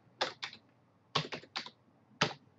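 Keys clacking on a computer keyboard while a login is typed into a freshly cloned virtual machine, coming in three short bursts of quick taps separated by brief pauses, close and clear with no talking.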